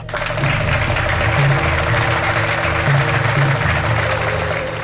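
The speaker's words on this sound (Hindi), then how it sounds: "तालियां।" Loud, steady applause from a studio audience opening an episode of the CID crime drama, a continuous wash of clapping over sustained musical tones.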